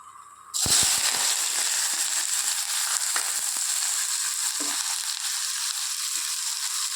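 Mustard seeds and onion hit hot oil in a pan with a sudden loud, steady sizzle that carries on unbroken, a few pops crackling through near the start, for a dish of cluster beans stir-fry.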